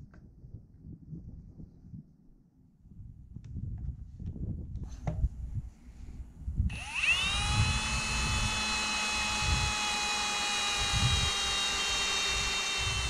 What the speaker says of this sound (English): and then have a much better chance of actually drilling straight